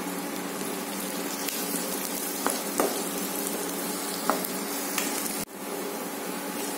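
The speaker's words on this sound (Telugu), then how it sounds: "దాంట్లోనే పచ్చిమిరపకాయలు, కరివేపాకు, చిన్నులపాయలు వేసి బాగా కలిపేసేయి." Green chilies, curry leaves and shallots sizzle in hot oil while being stirred, a continuous close hiss with a few faint clicks of the spoon against the pan.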